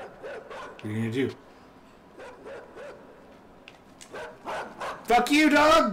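A hostile dog in the game Inside barks at the player in a couple of sharp, close bursts, with someone talking and shouting excitedly between and over the barks.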